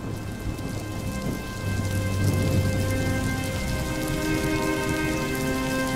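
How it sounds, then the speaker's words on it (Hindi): Steady rain falls over a courtyard where dry firewood is stacked, a dense, continuous patter close by, with a storm rumbling underneath and no voices. "बारिश में आंगन में रखी आरती की सूखी लकड़ियां तुरंत भीग गईं।"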